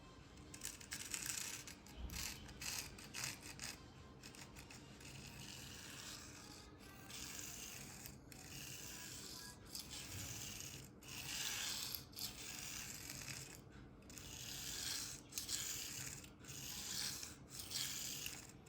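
A Spyderco Endura Wharncliffe knife in K390 steel has its edge dulled on a resin-bonded diamond sharpening stone, a repeated rasping scrape in rhythmic strokes, close and fairly quiet.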